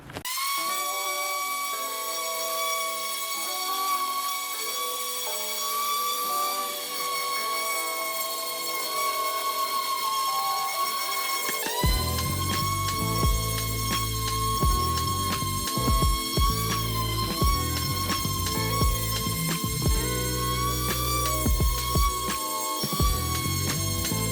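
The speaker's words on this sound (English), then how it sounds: "So what I'm going to do is go in with my sander. I'm going to use a 180 grit sandpaper first." A power sander fitted with 180-grit sandpaper works over an old stained dresser, giving a steady high whine throughout; a rougher, louder grinding rumble joins it about halfway through and continues to the end.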